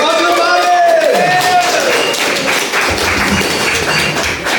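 A live comedy audience at a podcast recording claps in a dense burst of applause that starts loud with a shout over it and carries on steadily to the end.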